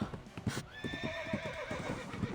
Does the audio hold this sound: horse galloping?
yes